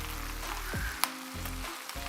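Tomato paste sizzles as it cooks in a pan for spicy lobster bucatini, a quiet, steady frying hiss under soft background music with one sharp tap.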